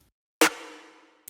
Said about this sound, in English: Just a very thick and punchy snare.